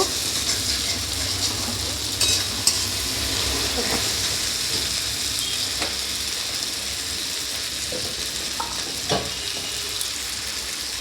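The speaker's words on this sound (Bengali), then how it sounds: "ভালো করে একটু কষিয়ে নেব" Egg curry masala with egg yolk sautéing in a pan, a steady close sizzle running throughout with a few scattered clicks and scrapes from stirring.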